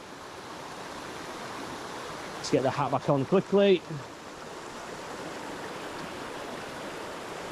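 The Fairy Pools waterfall on the Isle of Skye gives a steady, broad rushing roar from start to finish, with a person speaking briefly over it midway.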